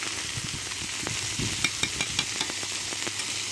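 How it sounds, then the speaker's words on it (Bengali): Onion and garlic frying in oil in a wok, a constant sizzle broken by light scrapes and clicks of stirring, near and moderately loud, with no speech. "পেঁয়াজ রসুন তেল দিয়ে কড়াইতে পেঁয়াজ রসুন ভেজে নিয়ে"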